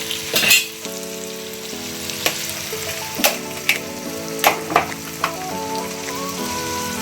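Capsicum sizzles and fries steadily in hot oil, with a continuous crackling hiss and several sharp stirring knocks of a utensil against the pan. No one speaks.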